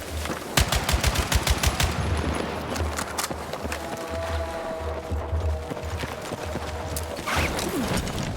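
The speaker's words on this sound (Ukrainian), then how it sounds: "Куди вони стріляють?" Rapid bursts of gunfire crack through a busy, rumbling Battlefield 6 battle soundscape, with a quick volley of shots early and scattered shots after.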